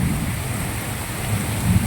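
Heavy rain pours steadily with a dense roar and low rumbling of thunder amid strong wind, loud and continuous, no voices.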